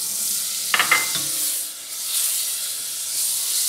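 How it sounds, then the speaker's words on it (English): Two tablespoons of butter melting in a saucepan over medium heat, giving a steady hissing sizzle with a brief cluster of scraping clicks early on, close and without talk. "Then I'm going to add 2 tablespoons of butter."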